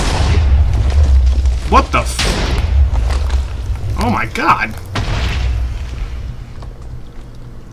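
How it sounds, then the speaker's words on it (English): Deep, rumbling booms from explosions in the Minecraft Nether roll out one after another, heavy and loud, while a player shouts in alarm over them. "I loaded in, there was instant explosions going on."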